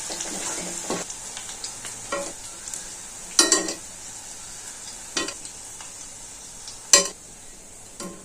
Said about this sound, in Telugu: ఆ వేడికే కరివేపాకు వేగిపోతుంది.